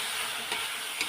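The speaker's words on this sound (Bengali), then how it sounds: "এখন আমি চিকেনটাও কষিয়ে নেব" Chicken being sautéed in a pan for chicken ghugni, a soft steady sizzle with two brief stirring scrapes.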